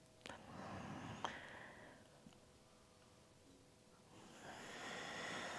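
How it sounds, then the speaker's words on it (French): Soft, steady ujjayi yoga breathing with a rasping throat texture, long airy inhales and exhales rising and falling like waves, close and quiet. "un son léger avec l'arrière de votre gorge, un son qui ressemble aux vagues de l'océan"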